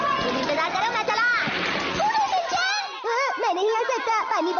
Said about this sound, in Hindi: शिनचैन इतना अच्छा स्विम कर सकता है